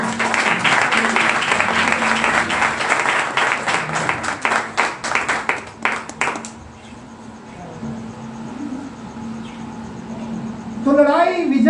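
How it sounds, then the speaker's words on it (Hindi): A church congregation in Pakistan applauds at a sermon, a burst of clapping for about six seconds that thins into separate claps and dies away, followed by quiet room tone and a brief voice. "जरा जोरदार तालियां अपने लिए दें।"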